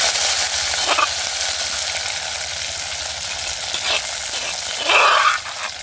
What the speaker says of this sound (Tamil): நான் இப்போ வெட்டி வச்சிருக்க வெங்காயம் மிளகாயை சேர்க்கிறேன்.